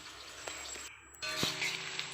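Onion and chili frying in a pan for a meat curry, a steady broadband sizzle with a brief dip then louder crackling and a single clink near the middle, no voices.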